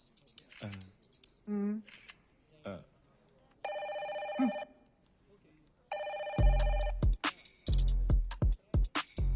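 A telephone rings in two long electronic bursts, loud and close, amid a comic interview scene with voices talking around it and clacking, snipping-like noises in between.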